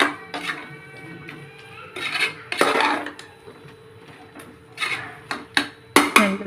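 Chicken being mixed with masala in a metal pot, with intermittent clanks and scrapes of a spoon against the pot, close by, separated by quieter pauses.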